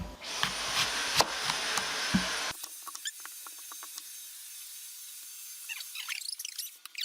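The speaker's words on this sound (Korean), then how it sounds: "청소기 잠깐만 할게." A household vacuum cleaner runs loudly indoors in an apartment for about two and a half seconds, then cuts off abruptly, leaving a quiet room with faint scattered clicks and rustles.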